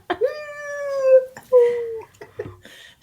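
A young kitten at home gives a drawn-out, tonal meow up close, then a second shorter one. Faint soft movement and a light voice sound follow.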